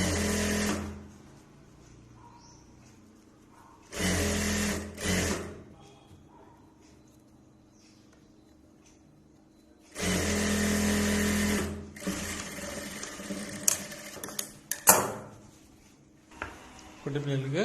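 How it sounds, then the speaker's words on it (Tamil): A sewing machine stitching a small baby dress runs in several loud, close whirring bursts of a few seconds each, separated by quiet gaps, with someone speaking between the bursts. "அப்படியே தையல் போட்டுக்கோங்க"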